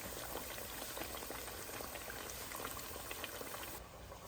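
Lentil vadas deep-frying in oil as a second batch goes in, a constant dense bubbling sizzle at moderate volume that softens slightly near the end.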